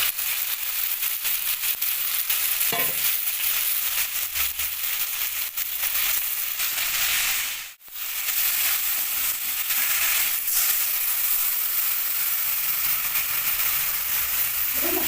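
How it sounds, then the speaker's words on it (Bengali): Ground spice masala with chili, coriander, cumin and turmeric fries in oil in a pan, giving a loud, steady broadband hiss that runs for a long stretch with a brief dip midway and a few faint knocks. "মশলাটা একটু কষে নেবো তেল ছাড়া পর্যন্ত।"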